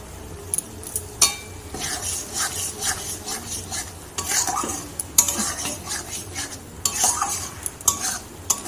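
A sweetened, salted ghugni filling is stirred in a pan until it firms up: a spoon scrapes and clinks against the metal in an irregular rhythm over a soft, steady sizzle, close and alone.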